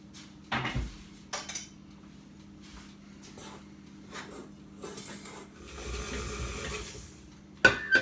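Ingredients mixed in a bowl with spices, sparse clinks and scrapes of a utensil against the bowl with a few sharper knocks, close and quiet against a faint background hum.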